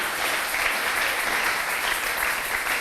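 Church congregation clapping together during a Sunday worship service, a steady, dense wall of applause that holds evenly throughout without a break.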